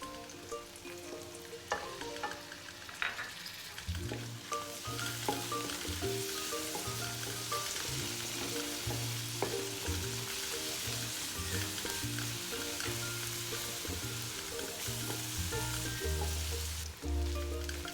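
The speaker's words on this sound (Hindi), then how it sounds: "अदरक लहसुन को हमने 2 मिनट फ्राई कर लिया है" Ginger and garlic frying in a pan with garam masala and dried coriander, a continuous, even sizzle with light stirring, heard near and moderately loud beneath soft background music.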